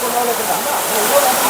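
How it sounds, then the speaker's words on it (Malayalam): The Thusharagiri waterfall in summer gives off a steady, dense rushing wash of water that fills the whole moment without a break, with a voice faintly present. "അതിൻ്റെ വെള്ളച്ചാട്ടത്തിൻ്റെ സൗണ്ട് കൂടെ ഉണ്ടാകുമ്പോൾ അതും കൂടുതലാണ്."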